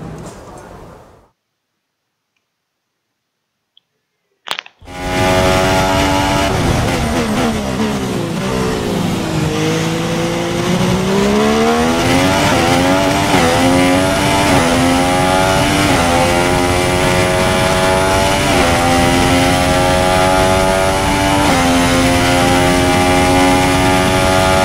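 Formula 1 race car engine in the F1 2016 game at the Canadian Grand Prix, a loud high-pitched whine that rises and falls through gear changes over about twenty seconds after a short silence, with a voice faintly underneath.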